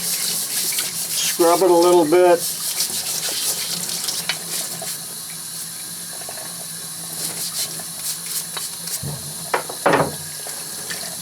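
Hot water running from a sink tap in a workshop while a rusty angle plate is scrubbed, a steady close rush with rubbing and clatter and a brief spoken remark.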